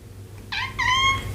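A cat meows twice in quick succession, a short cry followed by a longer drawn-out one, fairly faint and close over a low steady hum, with no speech.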